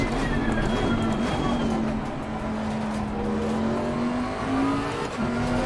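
A Bentley GTC race car in Assetto Corsa laps the Hungaroring, its engine droning loud and steady with shifting pitch as it sweeps through a corner, with light tyre noise beneath.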